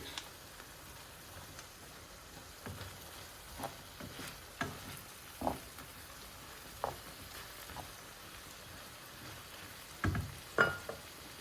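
Frozen peas being stirred into browned mince in a pan for a cottage pie, heard as faint scattered scrapes and soft knocks with a low sizzle beneath, a few louder clatters near the end.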